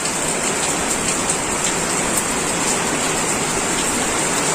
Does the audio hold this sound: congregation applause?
no